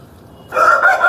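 An Eastern breed rooster, a hard-coloured kaki dega cock, lets out a loud, close crow that bursts in after a quiet start and holds strong to the end.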